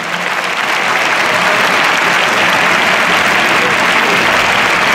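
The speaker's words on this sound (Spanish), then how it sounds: "Un fuerte aplauso para la Policía Nacional." An outdoor crowd in the Maestranza bullring in Seville gives loud, sustained applause for the National Police at a horse-drawn carriage exhibition, a dense, even wash of clapping that stays steady throughout.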